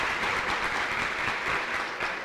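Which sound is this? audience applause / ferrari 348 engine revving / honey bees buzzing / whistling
audience applause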